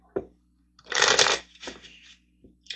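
Angel cards are shuffled by hand in a few quick bursts, a papery riffling and flicking close up in an otherwise quiet room.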